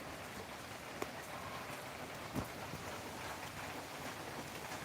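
Heavy morning rain falls steadily near the Katakhal river, a dense even hiss of drops throughout, with a couple of sharper drips or taps standing out briefly; no voices.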